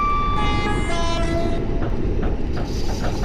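A train horn sounding in the Train Operator 377 simulator game, a sustained multi-tone blast over rumbling wheels and rail noise, then cut off as the running noise continues.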